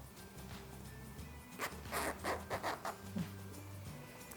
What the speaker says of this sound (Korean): 이제 지퍼를 한번 안쪽에서 살짝 당겨서 닫아볼게요.